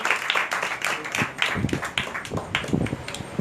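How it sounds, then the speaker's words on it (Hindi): Congregation at a Tuesday church meeting claps loudly to welcome the pastor. Bursts of sharp handclaps come in uneven waves, close and energetic, with some voices mixed in. "तो इसी तरह जोरदार तालियों में खुदा के खादिम को वेलकम करते हैं"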